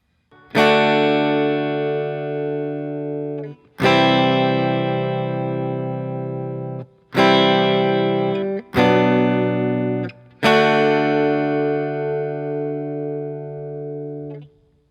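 Five strummed electric guitar chords, each ringing out for a couple of seconds before the next, with bright harmonics and a slightly effected, shimmering tone.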